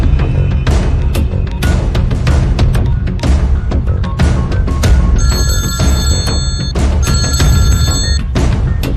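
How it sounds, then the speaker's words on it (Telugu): A telephone rings loudly and close, repeating trilling bursts in a steady rhythm for several seconds, with no talk over it. "దుగ్గల్ కి ఫోన్ కొట్టు."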